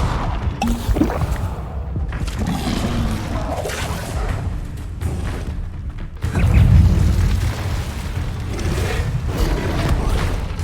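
Incendio fire spell cast in Hogwarts Legacy: a whooshing, booming burst amid ongoing game ambience, with a stronger low surge partway through, moderately loud and without talk.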